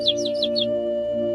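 Birds flying up from trees chirp four quick, bright, close calls in a rapid burst over a sustained musical drone, as a sound effect in a forest scene.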